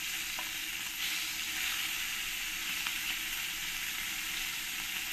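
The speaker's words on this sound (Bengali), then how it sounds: "মাছগুলোকে ভালো করে আমি এপিট ওপিট করে ভেজে নেব।" Pieces of snakehead (shol) fish fry in a pan of oil, producing a continuous, even sizzle and crackle that holds steady from start to finish with no voices.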